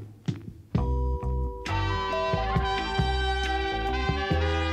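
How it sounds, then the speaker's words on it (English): A 1970s soul record played back as a sample source, full band with bass, drums and sustained melodic instruments, starting with a few sparse hits before the whole arrangement comes in loud and steady, no talking. "this sample is a soul track from the 70s that I got from tracklib.com"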